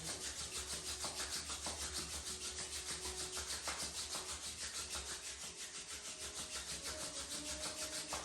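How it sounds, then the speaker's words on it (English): Palms rubbed briskly together in a rhythmic back-and-forth, close and steady, with no talking. "Rub your palm and make a heat."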